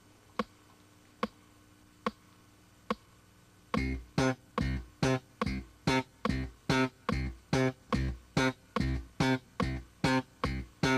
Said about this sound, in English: lift your fingers to deaden the note right away to give you a very short staccato sound